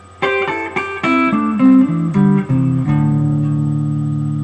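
Guitar playing pentatonic double stops in fourths in a descending pattern, each pair plucked cleanly and ringing briefly before the next, ending on a sustained chord.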